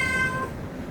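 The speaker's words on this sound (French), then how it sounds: "Mon chat est d'accord." A cat gives one short, close meow with a bright tone that fades fast into a quiet room.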